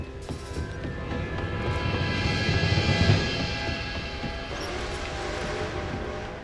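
An approaching steam train in the Red Dead Redemption 2 game, a broad continuous rumble that swells to a peak midway and then holds steady, with steady tonal hum layered through it.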